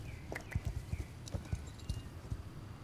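Rhythmic clip-clop of horse hooves at a walking pace in the video game Star Stable Online, crisp and fairly close, with faint background ambience.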